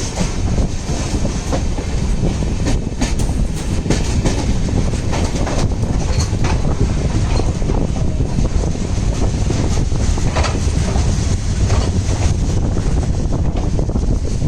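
Dadar–Tirunelveli superfast express running on the Konkan line in the rain, a steady loud roar of rolling coaches with rhythmic clickety-clack of wheels and heavy wind buffeting the microphone throughout.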